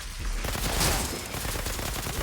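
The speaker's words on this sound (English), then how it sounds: "Whoa, those snipers hit hard, man." Rapid sniper rifle gunshots in the Valheim video game, a dense fusillade of loud overlapping cracks with no pauses across the whole stretch.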